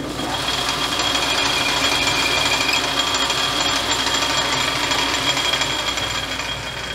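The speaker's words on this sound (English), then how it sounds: "I'm going to chamfer this edge a little bit here." Steel edge being chamfered with a power tool in a machine shop, a loud continuous grinding whir with a steady high ringing tone that holds evenly throughout without breaks.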